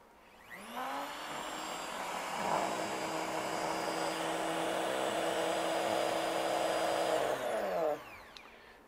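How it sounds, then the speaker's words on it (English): A Dremel rotary tool spins up on a table, holds a steady high whine and a buzzing rattle as it vibrates against the surface for several seconds, then winds down. Nearby and fairly loud, with no talk. "So I've got the Dremel on."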